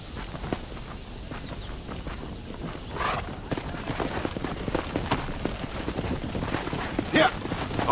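Horse hooves clip-clopping in the video game Red Dead Redemption, a steady trotting rhythm over ambient game noise, with faint voices and other effects mixed in.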